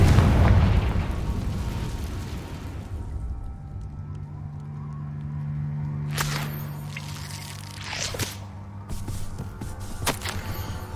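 A Confringo fire spell from Hogwarts Legacy goes off as a loud, deep explosive burst at the start, then decays into a rumbling tail, with a few sharp cracks and bursts following later.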